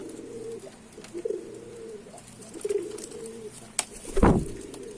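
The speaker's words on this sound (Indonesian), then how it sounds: "Nih, ini ada merpati tritis indukan teman-teman ya." Several soft, low coos from a retired breeding tritis pigeon, a racing bird, rising and falling in a few separate phrases, followed by one sharp, louder call near the end against a quiet background.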